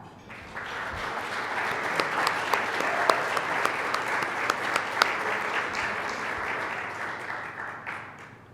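Sustained audience applause at a university Heritage Society dinner, steady dense clapping of many hands filling the room with a few sharper individual claps, swelling in and tapering off near the end.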